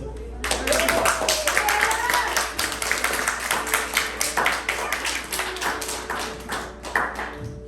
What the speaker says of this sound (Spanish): Y denle un aplauso a Dios.